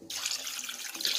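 Water pours from a tap into a pan for making jaggery syrup, a close, continuous splashing rush with a slight bubbling ripple, with no talk over it.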